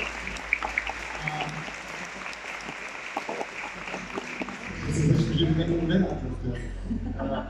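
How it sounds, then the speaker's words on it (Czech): Audience applause at Comic-con Prague 2024 for the organising team, a steady clapping crowd in a large hall with some voices mixed in, swelling louder toward the end. "já prosím o veliký potlesk pro tuhle tu"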